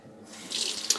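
Water from a tap runs briefly into a sink during shave lather preparation, a short close hiss of flow that starts after a quiet moment with no talk.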